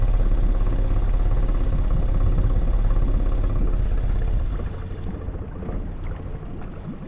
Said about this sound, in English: Idling, just barely.